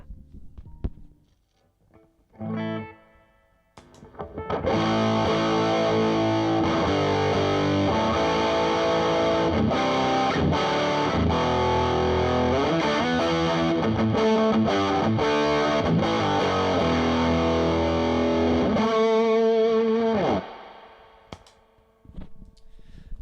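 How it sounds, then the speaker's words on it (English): An electric guitar plays through a gnarly, fuzzy distortion pedal. After a few short plucked notes, thick, buzzing chords sustain loudly for about fifteen seconds, then cut off. "a song that just needed that really gnarly, like fuzzy distortion"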